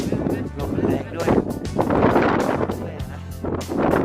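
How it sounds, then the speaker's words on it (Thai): Strong, steady wind buffets a microphone outdoors on a cold, breezy hilltop viewpoint, a continuous loud rumble with gusts swelling throughout, while someone talks over it. "ลมแรงด้วย"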